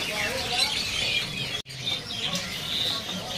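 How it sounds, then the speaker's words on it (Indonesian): Mini pied bushchats at a market bird stall chirp in thin repeated high notes over steady stall chatter and background bustle, with a brief cut midway. "di depan sini ada burung decu ya. Ini decu mini."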